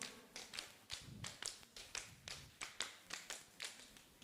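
A group claps together in a steady series of sharp, evenly spaced beats during a classroom Arabic grammar game, each clap crisp and fairly close, with no talking over them.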